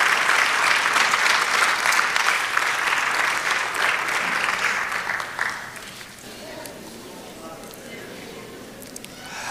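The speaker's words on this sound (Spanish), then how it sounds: "Del aplauso al Señor" Steady applause from a church congregation fills the room, then thins and fades to scattered claps and quieter murmuring toward the end.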